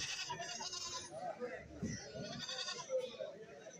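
Goat kids bleating at a goat market in Kerala, a few thin, wavering cries at moderate distance amid market bustle and voices talking.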